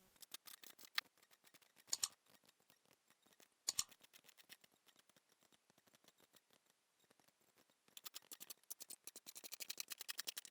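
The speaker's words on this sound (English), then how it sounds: "we cut around the pattern" Scissors cut fabric around a sewing pattern for a cowl neck dress in a run of close, crisp snips and slicing rasps, steady at first and then in quicker, denser strokes toward the end, with no voices.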